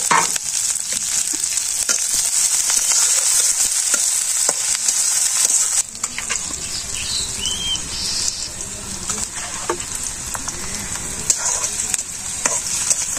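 Cumin, chopped onion and chili fry in hot oil for a village-style chicken curry. A loud, continuous close-up sizzle and crackle runs throughout with faint scraping and no talk.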